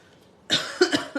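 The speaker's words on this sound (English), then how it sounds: "Oh, sorry, I keep coughing tonight." A short burst of close coughing, three or four quick hacks in a row after a moment of quiet.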